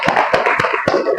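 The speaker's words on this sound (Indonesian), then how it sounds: "Ya, beri tepuk tangannya." Hands clapping in a classroom, a short burst of sharp, rhythmic claps with a few distinct strikes close by and no talk over them.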